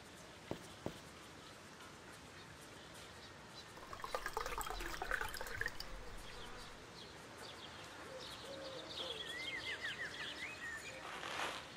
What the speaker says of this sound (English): I'll fill it with water.